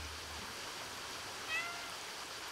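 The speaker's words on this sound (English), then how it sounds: "The best part is you can mew in cutscenes." A single short cat meow from the game Stray rises briefly over a steady hiss of flowing water, faint and close with no talking.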